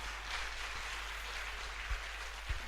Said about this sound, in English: you can do a bit or better clap for the panelists